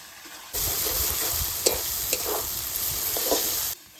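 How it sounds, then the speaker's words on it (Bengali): Chopped tomato frying in a pan with ground ginger and green chilli paste, a steady close sizzle broken by several sharp scrapes and clinks as it is stirred, with quieter moments before and after. "টমেটো কুচি। এবারে এটাকে ভালো করে ভেজে নেব।"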